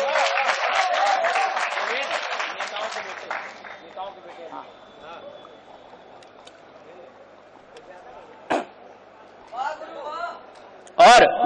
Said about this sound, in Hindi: मैं बैठ जाऊं भैया और ताली बजा दो जोरदार।